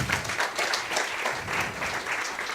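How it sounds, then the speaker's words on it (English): Audience applause at a project presentation for a technical schools turnaround project, steady dense clapping from a crowd throughout, fairly close and even in loudness, with no talk over it. "Can you please give Moavia Khali a big round of applause?"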